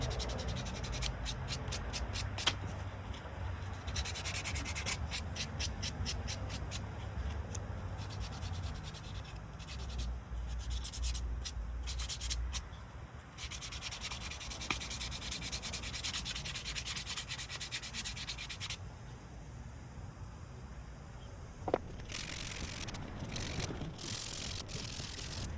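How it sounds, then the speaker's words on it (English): A small piece of 200 grit sandpaper is rubbed by hand over plastic, giving a steady, close scratchy rasp with quicker back-and-forth strokes in places and no talking. "I just got a little tiny piece of 200 grit. Just gonna hit it up a little bit"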